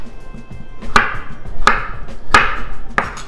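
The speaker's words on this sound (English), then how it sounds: "Now let's just get our potatoes cut. We're just gonna quarter them." A knife quartering skin-on potatoes on a cutting board, four sharp, evenly spaced chops at close range, loud and clear with no talking.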